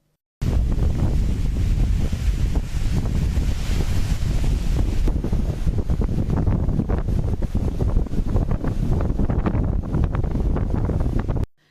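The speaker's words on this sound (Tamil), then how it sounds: "பாம்பன் பகுதிகளில் மணிக்கு 50 கிலோமீட்டர் வேகத்திலிருந்து 60 கிலோமீட்டர் வேகத்தில் காற்று வீசுவதால் மீனவர்கள் படகுகளை பாதுகாப்பாக நிறுத்தும் பணியில் ஈடுபட்டு வருகின்றனர்" Strong wind buffets the microphone on the Pamban coast, where the rough sea roars in a constant heavy rush that fills the whole stretch with no voices.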